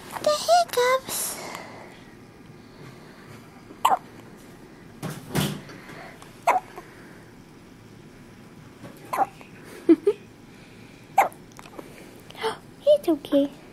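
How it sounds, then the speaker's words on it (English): A baby's hiccups come as short, sharp little catches, spaced irregularly across the stretch, close by and fairly soft, with adults murmuring gently in between. "he still got the hiccups"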